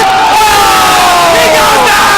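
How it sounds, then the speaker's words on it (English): Loud esports tournament crowd roaring and cheering continuously at close range during a Dota semi-final match, a dense sustained wall of shouting voices. "You can hear the excitement from the crowd right now."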